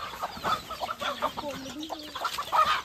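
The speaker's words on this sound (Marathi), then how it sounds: "यो काय यो कोंबडाच आहे ना" A village rooster in a forest gives a few short clucks and calls, fairly close and moderate in loudness, against faint background rustle and a distant rising-falling bird call.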